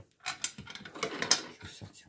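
A sewing machine working on a small fabric token holder, a short close burst of whirring mechanical clatter and clicks, uneven in loudness.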